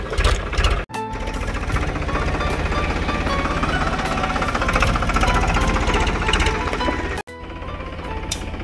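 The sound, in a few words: tractor engine running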